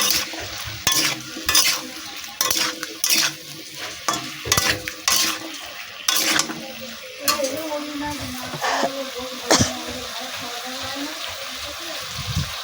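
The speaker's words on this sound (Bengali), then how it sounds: "হলুদের গুঁড়ো দিয়ে আমি নাড়াচাড়া করে নেবো নাড়াচাড়া করে নিয়ে আমি ঢাকা দিয়ে দেবো" Ridge gourd and potato stirred in a pan with turmeric, a spatula scraping and knocking in quick strokes over a steady sizzle, close and clear, with a voice talking at times.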